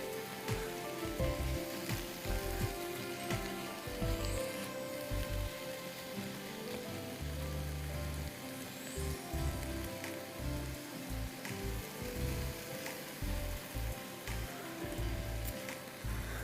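Beef pieces browning in a pot for a soup, giving a steady, close, continuous sizzle and crackle like rain on a surface, with no talking over it.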